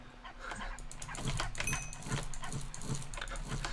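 Dogs bark repeatedly in a Minecraft Smash Heroes minigame, sharp game yaps recurring at an even pace over a busy bed of other game sounds, with no talk.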